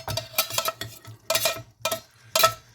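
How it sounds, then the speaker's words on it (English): Spoon scraping and clinking around a pot of hot dog soup in uneven bursts of stirring, close and clear with short pauses between strokes. "Let's gently stir it around."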